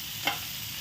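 Brief stirring of sliced onion frying in a pan, a soft sizzle under a single short scrape of the spoon, close and quiet.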